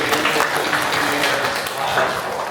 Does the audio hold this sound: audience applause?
yes